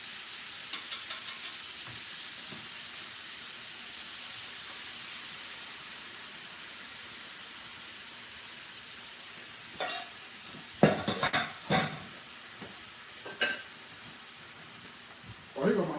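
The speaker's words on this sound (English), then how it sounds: "Give that a stir." Sweet and sour sauce for pork is stirred in a hot pan, giving a steady, even sizzling hiss throughout, with a few sharper spoon scrapes and clinks near the end.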